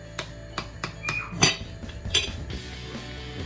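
Fisherman's stew ingredients being stirred in a metal pot, with a series of sharp clinks and scrapes of a utensil against the pot, closely spaced at first and then fading into quieter scraping.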